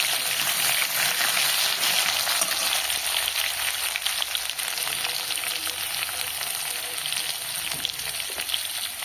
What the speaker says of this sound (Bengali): আমার আলুটাকে একটু ভেজে নেব প্রথমে।